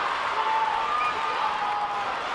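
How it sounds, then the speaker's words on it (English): A crowd at a 7-a-side football match, USA against Great Britain in London, gives off a steady wash of noise and scattered clapping, holding at an even level throughout. "Crowd making some noise now."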